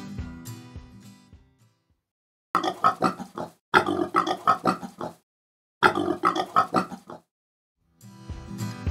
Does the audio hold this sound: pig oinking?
yes